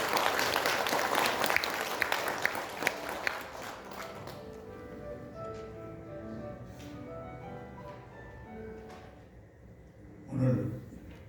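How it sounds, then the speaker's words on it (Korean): Audience applause greets a former lawmaker and committee chairman arriving at the launch ceremony of a civic association, a dense burst of clapping for about four seconds that thins out, with a voice speaking afterward. "큰 박수로 환영해 주시기 바랍니다."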